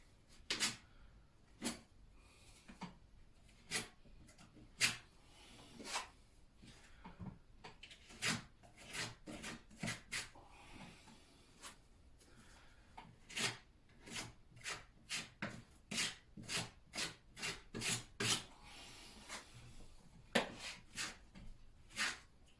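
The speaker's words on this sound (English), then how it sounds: "So just scrape on the sides" A tool scraping along the sides of a window shutter, repeated rasping strokes in uneven bursts, close but quiet, with no talking.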